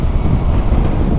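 Strong, battering wind buffets the microphone during a motorcycle ride on a Spanish touring trip, a loud continuous low rumble with no talk.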